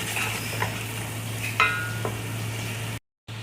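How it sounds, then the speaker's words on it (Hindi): Meat masala for arvi gosht sizzles steadily in a pan while it is stirred, with a few scraping strokes over a constant frying hiss and a brief gap near the end. "अब हम इसको करेंगे मिक्स अच्छे तरीके से और करेंगे इसको थोड़ी सी भुनाई।"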